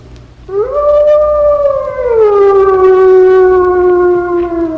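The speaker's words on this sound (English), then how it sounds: "The wolf loves to howl." A single wolf howls loudly and close, a long sustained rising then slowly falling wail with a clear, pure tone, heard alone without other voices.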